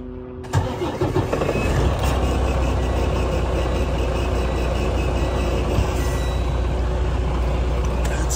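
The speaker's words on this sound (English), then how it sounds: "Go ahead and turn on our truck." A truck engine cranks and catches, then settles into a loud, steady idle that runs on close by without a break.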